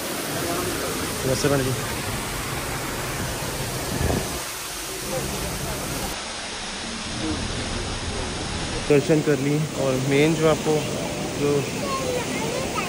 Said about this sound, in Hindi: और यहाँ देखो वाटरफॉल हो रहा है, झरना यहाँ से स्टार्ट हो रहा है।